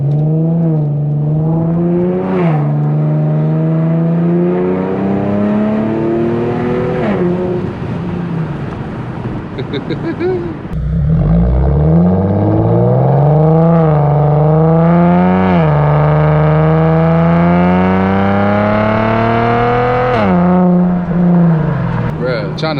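An Infiniti G37x with Vibrant resonator exhaust, heard from inside on a drive, revs loudly and repeatedly. The engine note climbs through the gears and drops back, a booming, close and continuous roar.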